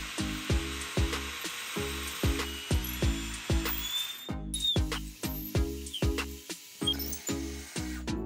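A drill bores into the 7.5-inch-thick wooden end of a coffee table base in repeated short bursts, each a loud rhythmic ratcheting grind with brief pauses between pulses, close up and without talk.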